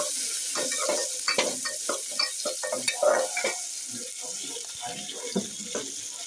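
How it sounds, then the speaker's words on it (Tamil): Onions sautéing and being stirred in a pan for a sambar and potato stir-fry, with a steady close sizzle broken by repeated scraping stirs; a faint voice may murmur in the background. "வெங்காயம் சேர்த்துக்கலாம் நல்லா வெங்காயத்தை வதக்கி விட்டுக்கலாம்"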